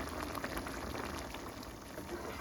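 Bolognese sauce simmering in a pan on medium heat: a continuous soft bubbling and popping, close and moderately quiet, with no voices.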